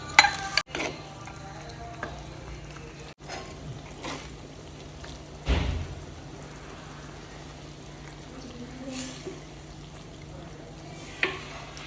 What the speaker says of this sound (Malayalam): കറി തിളച്ച് വന്നിട്ടുണ്ട് നമുക്ക് ചാള ഇട്ട് കൊടുക്കാം